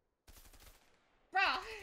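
A quick burst of rapid gunshots from A Way Out rattles out briefly and fades, followed by a loud voice.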